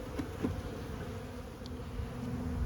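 A small honey bee colony hums and buzzes inside the hive around a tiny patch of brood, a soft, steady drone with occasional closer passing buzzes.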